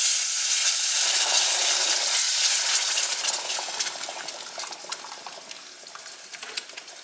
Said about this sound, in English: I'm just stirring this all in well to incorporate it